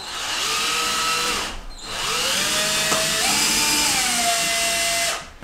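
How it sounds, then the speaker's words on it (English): A power drill bores into a household wall while hanging a gallery wall, a loud close whining motor run in two long bursts with a brief pause between, pitch shifting as it bites. "It is definitely not concrete because this drill drills into concrete like it is butter."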